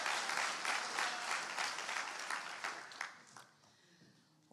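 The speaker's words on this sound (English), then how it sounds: "Let's give them a round of applause." Audience at a high school awards ceremony applauds, a dense sustained clapping that stays strong for about three seconds, then thins and fades out near the end.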